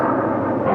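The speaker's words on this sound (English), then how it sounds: "That's a fighter jet." A fighter jet roars overhead, a loud, steady broadband rumble filling the whole short moment with no voices.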